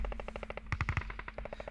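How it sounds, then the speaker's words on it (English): Rapid bursts of gunfire in the video game Hand Simulator, quiet and rhythmic, with a few heavier shots in the middle over a low steady hum. "I hear gunshots."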